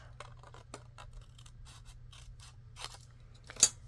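Scissors snip through fabric for pockets in a quiet room, with a run of short crisp cuts and a louder final snip near the end.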